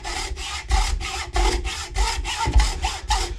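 A hacksaw cuts a kerf in a wooden axe handle with about eleven steady, evenly spaced rasping strokes, close and fairly loud.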